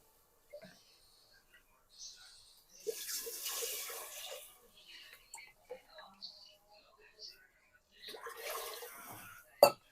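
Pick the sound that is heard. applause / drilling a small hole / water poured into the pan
water poured into the pan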